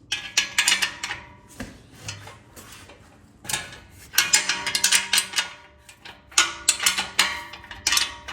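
A ratchet wrench loosens the 13mm exhaust bolts at the end of the muffler on a 2024 Harley-Davidson touring motorcycle, giving several close, loud bursts of rapid metallic clicking with short pauses between them and no talk.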